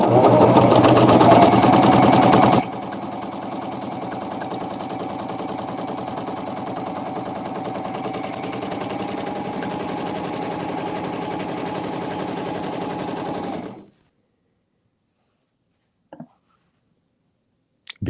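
A Janome CoverPro coverstitch machine set to its standard tension runs steadily through medium-weight denim, a fast even mechanical whir that starts louder, settles for about eleven seconds and then stops, leaving near silence with a couple of faint clicks.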